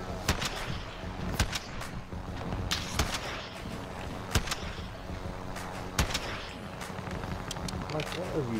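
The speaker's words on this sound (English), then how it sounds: "People shooting at us." Gunfire in the Warzone battle royale game sounds as sharp, scattered shots at moderate distance, cracking at irregular intervals over steady background noise.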